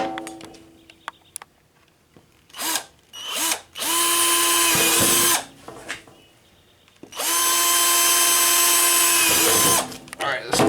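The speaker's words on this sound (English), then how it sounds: "So let's drill a hole." A power drill drills a hole for a bolt on a first-generation Ram truck, running in several bursts, two long steady whirs and a few short pulses, close by and loud, with brief pauses between.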